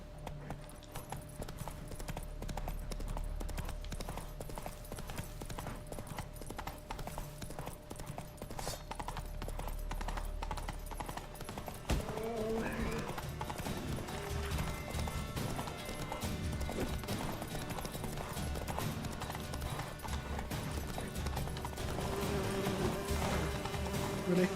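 Roach, the horse in The Witcher 3, clip-clops along at a steady walking pace, quiet and near, with a faint whinny and insect buzzing in the background.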